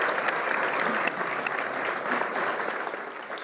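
An audience claps together in a steady, dense burst of applause that stays loud throughout and tapers slightly at the end.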